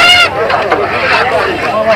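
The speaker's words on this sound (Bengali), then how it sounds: "3টা হাঁসা নিয়ে আসলো, দেখেন খুবই সুন্দর। এগুলি দেশি হাঁসা না?" Domestic ducks at a traditional village market in Sirajganj, Bangladesh, give a quick run of nasal honking quacks up close, amid a steady hubbub of market chatter.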